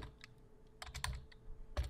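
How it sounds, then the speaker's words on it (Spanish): Computer keyboard keys are pressed close up, with the Control key held for a page-break shortcut. Several crisp, irregular clicks come in small clusters, with a firmer thump near the end and no talk. "tiene un atajo de teclado que es pulsando la tecla control"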